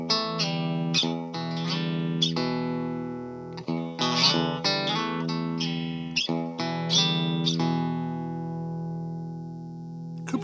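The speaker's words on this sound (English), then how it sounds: "It was going guitar into amp." Twangy, sustained notes and chords from a 1935 electric lap steel guitar through a small amplifier, with gliding pitches and a slightly distorted, ringing tone, played alone.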